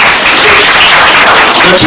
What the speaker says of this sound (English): let's give God a clap hand again